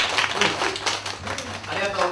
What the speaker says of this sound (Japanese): 皆さん最後拍手お願いします